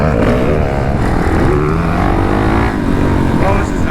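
A dirt bike on a rough motocross track, its engine droning loud and close with a continuous rough buzz, rising and falling slightly as the rider works through the course.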